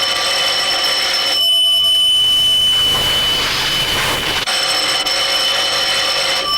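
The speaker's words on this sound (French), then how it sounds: "Téléphone." Telephone ringing in a garage, a loud shrill electric bell that rings in bursts with a brief pause between them, close and dominant, with no talk over it.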